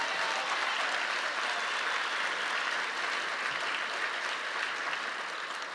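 Steady, dense applause from a large audience at a political gathering, honoring conservative leader Ralph Reed; the clapping stays loud and even throughout with no break.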